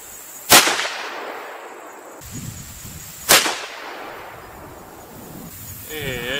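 Two sharp, loud rifle shots from a CVA Scout chambered in .35 Whelen being sighted in, each a single crack with a fading echo, spaced about three seconds apart outdoors.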